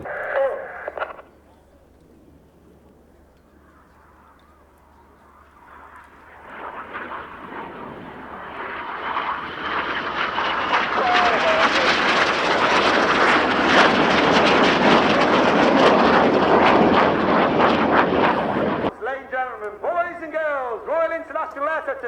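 Jets of the Royal Air Force Aerobatic Team pass over an air show, a roar that swells from quiet to loud and holds for several seconds before cutting off, then an announcer talks over the scene.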